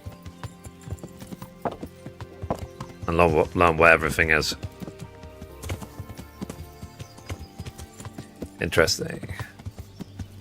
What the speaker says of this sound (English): you're forced to actually jump on your horse and explore the world